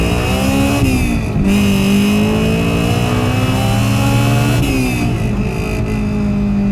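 A Honda engine swapped into a Toyota AE86 Trueno revs hard and loud into VTEC, its whine climbing and dipping in pitch as it pushes toward high revs.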